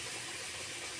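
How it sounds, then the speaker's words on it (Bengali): Hot water streams steadily into a wok for a fish curry, making a short, continuous hissing pour at close range. "গরম জল করে সেই গরম জলটা আমি কড়াইতে দিয়ে দিলাম"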